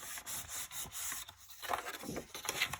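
Paper being folded and burnished along score lines for a mini album page, a series of quiet dry rubbing and scraping strokes, close by and uneven in rhythm, with no talk.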